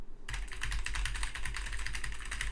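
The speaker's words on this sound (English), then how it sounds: "If you can hear someone typing with a Shure microphone, it's not correct." Rapid, continuous typing on a computer keyboard, with close and loud clattering keystrokes in a dense, even rhythm from just after the start to the end.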